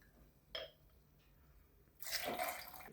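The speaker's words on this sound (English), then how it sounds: "then it's going to be 6 shots of this vodka and pine mix" A vodka and pine mix is poured into a cocktail shaker, with a faint clink of glass first and then a brief liquid splash and trickle, quiet and close.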